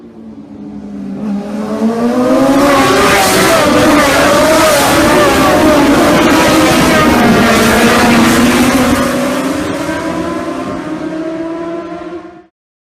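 Racing motorcycles at the Isle of Man TT senior race, 2019, at Ballachagan corner, roar past at close range with a loud rising and falling engine wail that swells, holds for several seconds, then fades.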